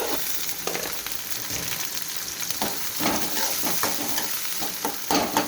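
Onion and tomato sautéing in a pan for a Tamil mochai and brinjal kuzhambu, a continuous close sizzle broken by repeated spoon stirs and scrapes against the pan, steady and moderately loud with no voices.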